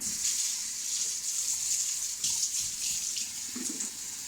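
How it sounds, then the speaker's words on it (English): Water gushes steadily from a hose during homebrew wort chilling, a continuous hissing flow heard up close with slight surges and no talking. "I can go ahead and start up the water again"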